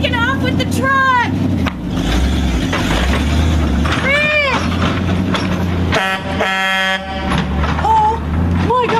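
Cartoon tow truck engine rumbles under excited shouting voices, with several short, bright horn toots bursting out at intervals, loud and close.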